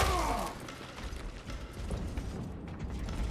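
Clunky mechanical clicks and ratcheting sounds come from an ammo resupply mechanism in Space Marine 2, with a short whirring sweep at the start and then faint clattering over low rumble.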